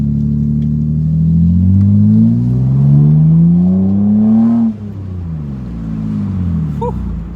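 A 2003 Mitsubishi Eclipse engine accelerates while driving with the sunroof cracked, its pitch climbing steadily through a gear before a shift drops it, then it pulls again, loud and close from inside the cabin.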